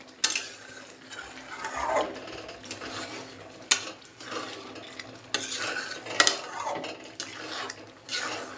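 Khichuri cooks in a pot at home as a metal utensil stirs and scrapes it, with repeated sharp clinks and quieter rattles between them. No one speaks.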